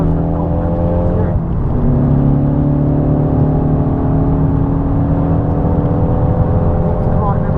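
Car accelerating through a corner on the Snetterton circuit, heard from inside as a loud steady engine drone with rising harmonic tones as revs climb, an instructor talking over it throughout.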